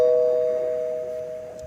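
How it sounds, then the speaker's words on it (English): A single electronic doorbell chime rings out clearly and sustains, slowly fading over a quiet background. "doorbell means we have a comment"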